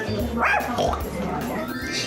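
A small part pig, part poodle dog gives a few short barks and yips up close amid indoor chatter and ambient noise.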